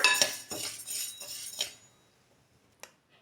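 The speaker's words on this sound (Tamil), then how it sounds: "அரிசியை இந்த மாதிரி பொறி மாதிரி வறுத்துக்கோங்க இன்னும் கொஞ்சம் நல்லா வறுக்கணும்" Rice dry-roasted in a pan for a village-style rice puff upma, with close metallic scraping and clinking of a spoon against the pan in bursts for about two seconds, then quiet with one last faint clink.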